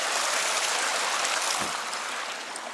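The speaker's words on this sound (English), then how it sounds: "Creek number 1." Creek flowing near a village in Dagestan, a dense steady rushing of water close by, continuous with no voices.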